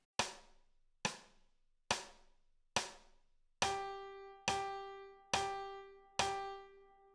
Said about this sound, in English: A quarter note is one note per beat, and it sounds like this.